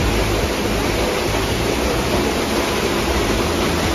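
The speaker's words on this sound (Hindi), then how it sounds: "एंड फाइनली हम पहुंच गए हैं झरने के बिल्कुल पास।" Close, loud waterfall at Robber's Cave (Guchu Pani) in Dehradun, a dense, unbroken rushing roar of falling water with no voices.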